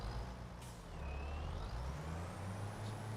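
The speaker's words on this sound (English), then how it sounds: "I don't understand why this tractor is so ridiculously slow in reverse." A tractor engine in Farming Simulator 25 hums low and steady while reversing slowly, with a faint whining tone sliding in pitch above it and a brief hiss near the start.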